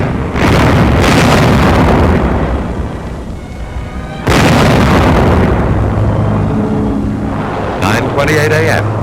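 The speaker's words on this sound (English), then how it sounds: "camouflaged 105 howitzers on gun carriages opened up with a bombardment of warning" Camouflaged 105 mm howitzers on gun carriages firing a warning bombardment during the battle of Monte Cassino, two heavy booms with long rumbling decay, loud and close, with further muffled noise late in the stretch.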